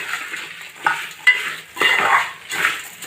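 Coriander seeds, dried chilies and tamarind dry-roast in a pan, stirred in repeated scraping, rustling strokes that rise and fall in short bursts.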